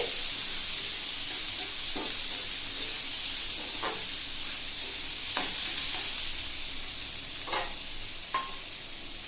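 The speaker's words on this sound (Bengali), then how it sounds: "দিয়ে দিলাম একটা গোটা বড় পেঁয়াজ কুচি করে দিয়ে দিলাম একটু নাড়াচাড়া করে" Chopped onion and crushed garlic frying in a pan, a steady bright sizzle with occasional short scrapes and taps of a spatula stirring, close and continuous, no speech.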